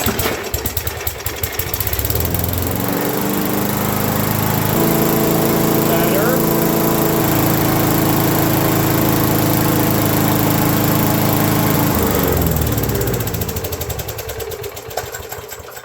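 A Craftsman lawn mower engine starts, revs up and runs loudly and steadily for several seconds, then winds down and stops, with sputtering at both ends.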